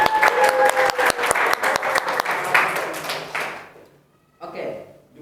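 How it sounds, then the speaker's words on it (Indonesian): Classroom applause for two students, a burst of many hands clapping loudly that fades out after a few seconds, followed by a brief voice. "Sebelumnya tepuk tangan dulu buat dua teman saya yang untuk menjawab ini."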